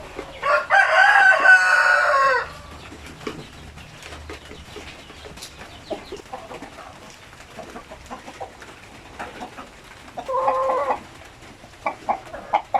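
RTL Basilan chickens on a farm: a loud, close rooster crow opens, followed by scattered hen clucks and small rustling sounds, then a shorter burst of calling near the end.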